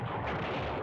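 Heavy, rumbling bomb blast from the Silent Bomber video game, a dense sustained roar filling the whole moment with no clear gaps.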